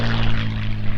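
An early, very rare version of the P-51 Mustang propeller warbird, flown with the CAF Red Tail Squadron at the 2019 Power On The Prairie Airshow, gives a loud, steady droning engine roar up close with no voices.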